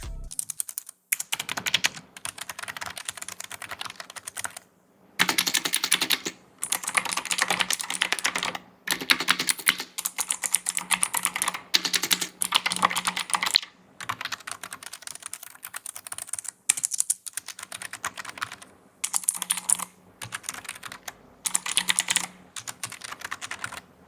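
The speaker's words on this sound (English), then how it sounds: "Let's listen to both these keyboards back to back." Bursts of rapid typing on two gaming keyboards, including an optical Razer DeathStalker V2, with brief pauses between runs, clicky keystrokes close up and fairly loud, one stretch of typing followed by another.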